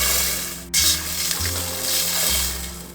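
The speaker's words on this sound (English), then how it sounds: "We add the water" Water pours into a cooking pot of rice and garbanzo beans, a steady rushing and sizzling wash over a low hum, continuous and close with no talking.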